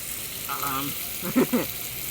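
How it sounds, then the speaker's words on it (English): Soft, steady hiss of bacon sizzling in a pan sits in the background while a voice speaks briefly over it. "The sound of bacon sizzling."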